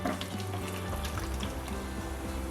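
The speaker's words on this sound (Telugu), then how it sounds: "దీంట్లోకి కరివేపాకు యాడ్ చేసి పోపు వేగేంత వరకు వేసి" Chana dal, red chillies, garlic and curry leaves crackle in hot oil as a tempering for moong dal chutney, a steady close sizzle with small spits and pops throughout, no voices.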